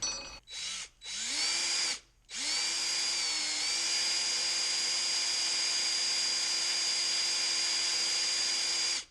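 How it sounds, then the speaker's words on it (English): A power drill bores into a Corona 3354 weeder, starting with a few brief bursts and then settling into a loud, steady, high whine that runs without a break. "We might try to drill these first."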